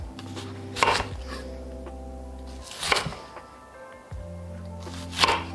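A knife cuts a squash into wedges on a board, making three separate firm chops spaced about two seconds apart over a low hum.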